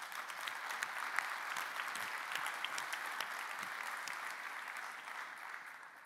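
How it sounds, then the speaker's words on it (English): Sustained applause from a conference audience at an airport business diversity conference opening session, steady dense clapping at moderate distance throughout, tapering slightly at the end. "Please, let's give them a round of applause."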